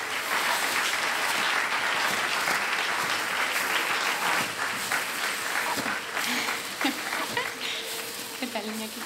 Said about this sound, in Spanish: Un aplauso para Iñaki, por favor.